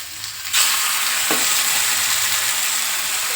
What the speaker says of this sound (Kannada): ಈಗ ಫಿಶ್ ಎಲ್ಲ ಫ್ರೈ ಮಾಡ್ಕೊಬಿಡೋಣ